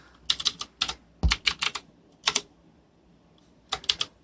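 Irregular bursts of clicky keystrokes on a computer keyboard, close and moderately loud, with short pauses between flurries of taps.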